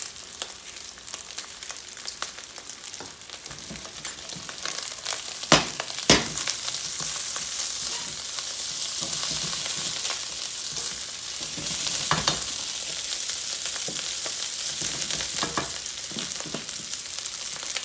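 Rice fries steadily in hot oil in a pan, a dense, continuous sizzle with occasional louder crackles and a few stirring scrapes, close and with no voices.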